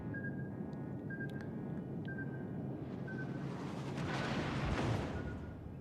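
Distant naval gunfire from battleships in World of Warships: Legends, heavy low rumbling booms rolling continuously under steady game ambience, swelling louder toward the end with faint high blips on top.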